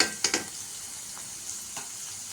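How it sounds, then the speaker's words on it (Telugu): Onions frying in a pan, a soft continuous sizzle with a couple of quick utensil scrapes at the start and faint stirs later, quiet and close with no talking. "మనకు ఆనియన్స్ ఫ్రై అవుతున్నాయి"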